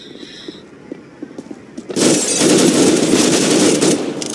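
Gunfire in the game CS:GO: a few scattered single shots, then a dense, loud sustained burst of rapid automatic fire that continues to the end.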